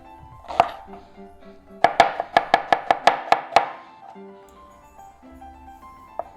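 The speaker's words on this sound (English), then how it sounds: "I'll just do a rough chop" Garlic roughly chopped with a knife on a board: a single chop, then a quick run of about eight sharp, evenly spaced knocks, a pause, and one last light tap, all close and clear with no talking.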